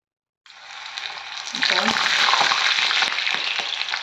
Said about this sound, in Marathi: मी कॉर्नची भजी घालते थोडी थोडी